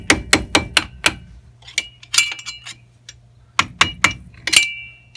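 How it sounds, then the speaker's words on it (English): A hammer strikes a flathead screwdriver against the wheel hub dust cap of a GMC Sierra or Silverado pickup, giving two bursts of rapid, ringing metallic blows that are close and loud, with scattered lighter taps between them. "I'm using a flathead screwdriver and I've been hitting on this with a hammer."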